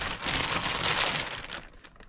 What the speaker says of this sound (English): I'm going to put this piece of rib in a Ziploc bag or a plastic bag.